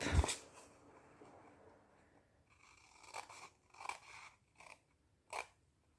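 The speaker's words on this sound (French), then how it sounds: "avec vos ciseaux, ou le massicot si vous préférez, on coupe" Scissors cut through folded paper card for a bookmark: one sharp snip at the start, then a few quiet, crisp cutting crunches spaced over several seconds, close and faint in a quiet room.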